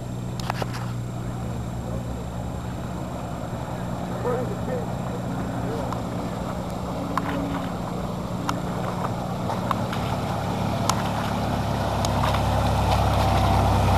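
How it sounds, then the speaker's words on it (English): A car with its tailpipe cut off the muffler backs through a water pit at a mud pit event, a steady low engine rumble and sloshing water under crowd noise and talk, growing slightly louder toward the end. "So as you're backing through it, you're filling the muffler up."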